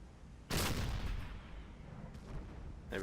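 A single loud gunshot blast from a UIT 25 submarine deck gun on patrol, a sharp onset with a long rumbling decay, followed by faint distant sounds.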